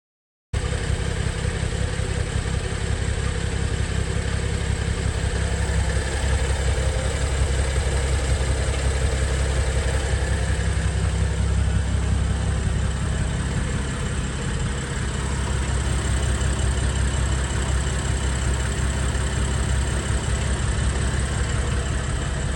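A rebuilt BMW N55 turbo engine in an M135i idles steadily with Valvetronic valve lift cycling through its positions, a continuous loud, even rumble that runs unbroken with no voices.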